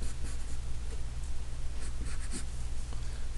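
A hand sketches a little cliff-and-boulder diagram, pen or pencil scratching in short strokes on a surface, close and steady under a constant low hum with no talking.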